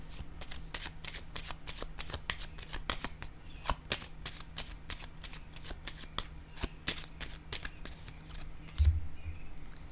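Tarot cards shuffled for a reading, a rapid run of crisp riffling flicks repeating close to the microphone, quiet overall and with no talking.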